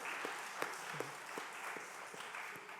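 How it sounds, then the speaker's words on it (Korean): Church congregation at a Sunday afternoon service gives a round of applause, a soft, distant patter of clapping with a few sharper claps rising from the steady wash. "또 한 번 박수 칩시다"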